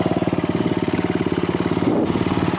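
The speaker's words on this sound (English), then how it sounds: "Nice, clean, crisp sound from the muffler exhaust system." A 50cc Venom X18 moped engine idles steadily through its muffler exhaust, a rapid even putter with a low throaty pulse, close by and continuous with no voices.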